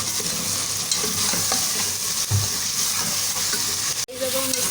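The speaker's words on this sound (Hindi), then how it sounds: "उधर हम गोश्त को फ्राई करने लगे हैं" Chicken pieces frying in oil for a homemade chicken dum biryani, a steady dense sizzle with stirring throughout that briefly cuts out near the end before resuming.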